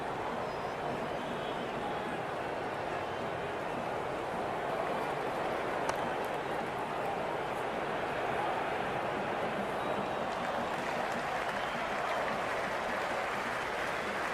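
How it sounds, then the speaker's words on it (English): Steady, distant roar of a stadium crowd in the video game Cricket 26, a continuous broad wash of cheering noise that holds level throughout with no individual voices standing out. "The crowd is electric right now."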